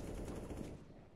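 Rapid bursts of gunfire in a Turkish-played online shooter game, dense and loud for most of the moment before thinning out, with no talking over it.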